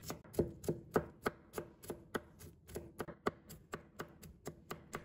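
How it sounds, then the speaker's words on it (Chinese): A knife mincing garlic cloves on a cutting board, giving crisp, evenly spaced chops in a steady rhythm, close and clear, with no talking over it. "再准备一把大蒜，先把它切成薄片， 再改刀切成蒜末。"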